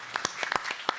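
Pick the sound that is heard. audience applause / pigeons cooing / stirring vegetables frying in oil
audience applause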